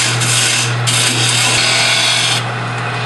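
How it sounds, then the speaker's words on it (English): A detail gouge on a wood lathe shaves material from spinning wood in a continuous loud, raspy scraping. It briefly eases a few times and shifts tone near the end, and no one speaks. "I'm going to start with my detail gouge and remove the material here to make a bow."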